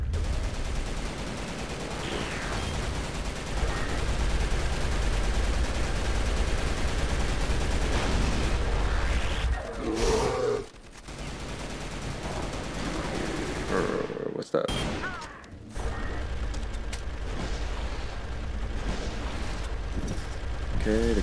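Cannon fire during the hard-mode War Bear boss fight in the Final Arena of the CrossFire shooter game, a dense, continuous booming barrage that breaks off briefly twice before roaring on.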